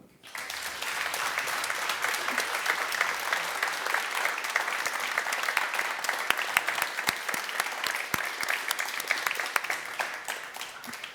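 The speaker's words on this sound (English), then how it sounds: "Can I please have a last applause for Dave and Nienke?" A crowd at an evening interview event on sustainable design bursts into sustained applause that swells quickly, holds dense and even for about ten seconds, and has a few individual claps standing out near the end.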